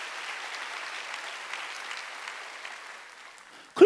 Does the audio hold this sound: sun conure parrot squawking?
no